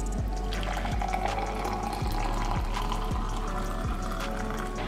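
Hot water pours into a glass holding grated ginger, a continuous close trickle and fill sound under a low steady hum, with no talk.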